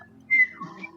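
During a tabletop role-playing session, a person gives a loud, sharp whistle with their mouth to imitate a character's whistle. It is a single bright rising note followed by softer, wavering tones in a quiet room.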